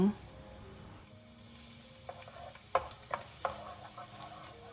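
Minced garlic stir-frying in a little oil in a pan, a soft low sizzle broken by a few sharp scraping clicks of the spatula toward the end, close and fairly quiet.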